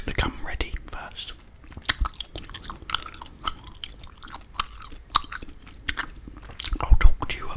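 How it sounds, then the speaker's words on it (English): Gum chewed close to the microphone, with wet smacking and soft crunchy bites in a steady irregular rhythm and faint whispering mixed in. "Let's get the gum ready first."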